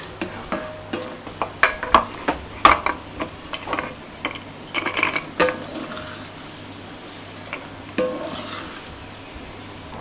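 Cashews and dried grapes frying in ghee while being stirred, with irregular close clicks and scrapes of a spoon against the pan over a soft, quiet sizzle.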